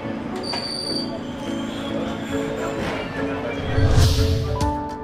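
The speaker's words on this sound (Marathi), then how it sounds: "आज व्हडली खुशी बघता की 2 ट्रेनी ह्या आमचे काणकोणच्या स्टेशनाचेर थांबतल्यो" A train at Canacona railway station in Goa, with a steady rumble and high metallic wheel squeals and tones ringing over it, growing louder near the end; a voice talks faintly in the background.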